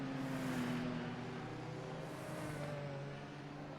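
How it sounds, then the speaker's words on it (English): Engine revving from an IndyCar in a racing video game at Long Beach, a steady droning whine that holds its pitch and slowly shifts, heard alone. "I see Nias' car going."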